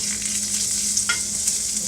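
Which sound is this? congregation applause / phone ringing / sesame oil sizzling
sesame oil sizzling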